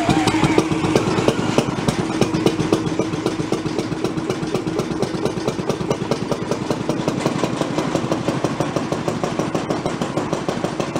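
An antique Gile marine engine runs near idle with a rapid, even chugging beat, close and steady for the whole stretch, with no voices over it.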